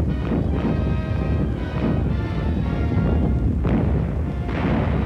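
Wartime bombs and gunfire pound without pause, heavy rumbling blasts and crashes rolling over one another in a dense, loud barrage, with sharper explosive bursts standing out every second or two.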